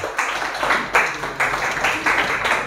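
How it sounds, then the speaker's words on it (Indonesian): Classroom students clap for a presenting group during a teacher-training session, a brisk rhythmic burst of claps in repeated pulses, fairly loud and close with no talk over it. "Tepuk tangan sekali lagi untuk kelompok 3."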